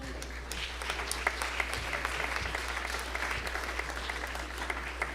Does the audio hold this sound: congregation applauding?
yes